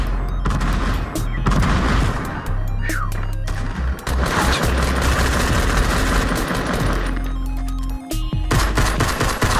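Loud, dense gunfire in Fortnite, with rapid automatic bursts and booming shots packed together almost continuously over the game's background sound.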